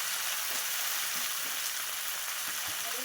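Potatoes fry in a pan with a steady, dense sizzle and occasional soft stirring scrapes, a continuous close crackle throughout without any talking.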